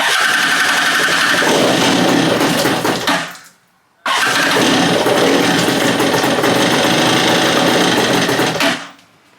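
A stand-up jet ski engine starts up loud and close, roaring steadily for a few seconds, cutting out briefly, then firing again into a sustained rough drone that stops abruptly.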